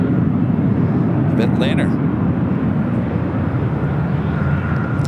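An Alaska Horizon aircraft takes off from the south side at Los Angeles airport, a steady engine roar filling the background while a voice talks over it.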